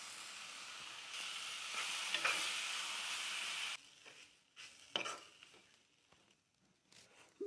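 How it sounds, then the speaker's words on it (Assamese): Besan frying in a pan with melted tomatoes and onions, a steady broadband sizzle for the first few seconds, then quieter stirring scrapes and soft crackles, with no voices. "বেচন, বিলাহী আৰু পিঁয়াজ ভাজি হ'ল।"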